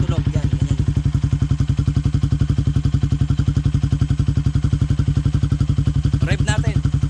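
A Yamaha Sniper 150 motorcycle fitted with a Yoshimura Alpha open exhaust pipe idles close by, with a loud, steady low-pitched pulsing throb. A voice is heard briefly.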